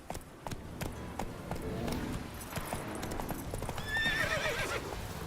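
Roach, a horse in The Witcher 3, gallops with rapid rhythmic hoofbeats, then gives a bright whinny near the end, over faint background voice.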